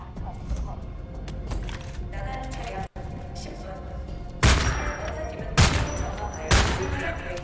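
Gunfire in Homefront: The Revolution: several sharp, loud shots crack out in spaced bursts, each followed by a brief ringing tail, over a steady background of game noise and someone speaking.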